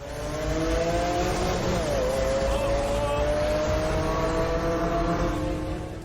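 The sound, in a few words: BMW E36 race car accelerating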